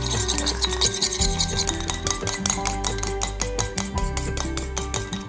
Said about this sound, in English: So give that a little mix.